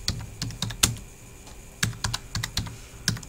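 Fingers type on a computer keyboard, about a dozen crisp, close clicks in an irregular rhythm with a short pause midway, quiet and alone.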